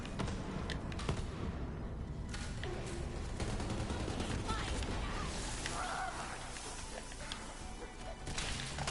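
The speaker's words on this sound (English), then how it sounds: "That grenade is so powerful." Grenade blasts and rapid gunfire in a co-op vault-hunting shooter game form a dense, loud, continuous barrage of cracks and booms with no let-up, and voices are buried beneath it.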